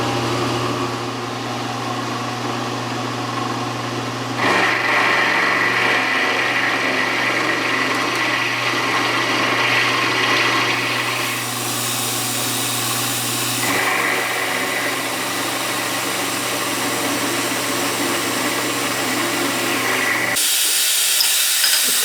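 Milling machine with a 1/2 inch end mill cutting metal in a shop, a steady whining motor hum with broadband cutting hiss that shifts in intensity over time, continuous and fairly loud, then stopping near the end with no talking.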